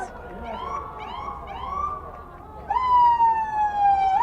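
A wailing ambulance siren rises and falls during a St. Patrick's Day parade in Peekskill, then switches to a louder sustained tone nearby, with people talking in the background.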